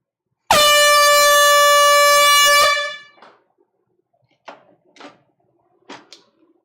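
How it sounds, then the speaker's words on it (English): A loud, sustained air horn blares for about two seconds during a live vinyl record sale, then stops abruptly, followed by a few faint knocks and handling sounds. "Brian, air horn's coming."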